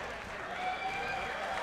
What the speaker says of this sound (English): Ladies and gentlemen, a round of applause for a hard-fought